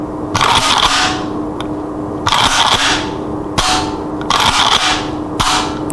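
An Ithaca M37 trench gun shotgun fires four sharp, loud blasts spaced a second or two apart, each crack trailing off in a short ringing decay before the next shot.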